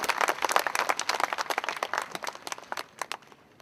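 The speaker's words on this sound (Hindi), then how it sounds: "एक बार जोरदार तालियों के साथ इन सब साथियों का स्वागत करते हैं।" A crowd at a 2012 party rally in Farrukhabad claps loudly to welcome guests, a dense patter of many hands that thins and fades toward the end.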